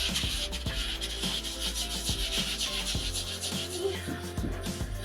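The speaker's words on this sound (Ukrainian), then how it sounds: "Беремо макітру і починаємо розтирати мак." Soaked poppy seeds are ground in a clay makitra bowl, a steady rough rubbing and scraping with repeated strokes that runs the whole time at close range.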